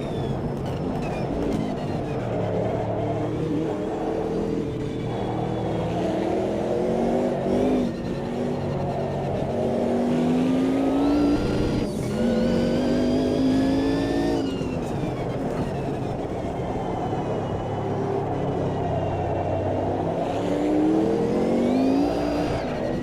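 Race cars in the Automobilista 2 racing game roar continuously and loudly, engines rising and falling through gear changes as several cars run together in a pack, with no talk over them.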